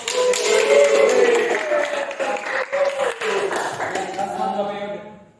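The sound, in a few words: classroom applause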